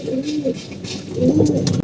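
Pigeons in a loft cooing softly, a couple of low rolling coos close by with faint rustling around them.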